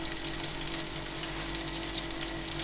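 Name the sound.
mushrooms frying in a pan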